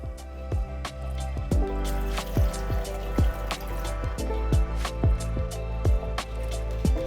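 Liquid pours and drips into a container while a protein shake is made, with a run of soft, regular splashes and drips over a low steady hum.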